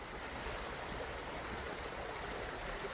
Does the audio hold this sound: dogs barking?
no